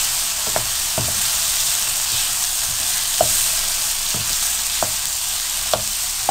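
Beef masala boti pieces fry in a pan with salt, chili and spices, a steady broadband sizzle running throughout while a spoon scrapes and stirs in several sharp knocks spread across the clip.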